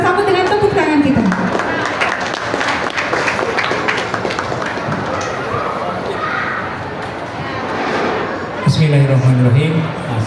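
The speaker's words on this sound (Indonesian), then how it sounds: "Kita sambut dengan tepuk tangan kita." An audience at a film meet-and-greet in a Bandung shopping mall claps and cheers to welcome a guest, with a steady wash of applause beneath announcer speech that opens and closes the moment.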